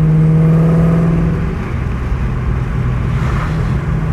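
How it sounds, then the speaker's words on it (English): A car engine held at elevated RPM during dyno prep after a pulley and plug change, giving a loud close droning whir that eases slightly partway through, with no voices. "I'm trying to keep the RPMs kind of higher."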